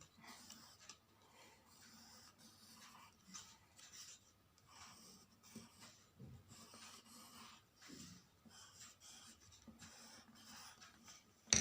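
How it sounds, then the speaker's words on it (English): Pencil marking edges on thick colored paper for a DIY photo booth frame, giving faint, close, intermittent scratchy strokes in short bursts with soft breathing between. "just mark the edges and just make leaf petals"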